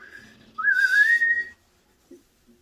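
A person whistles a single rising then level tone for about a second, clear and close, in the middle of the clip, with faint murmurs before and after.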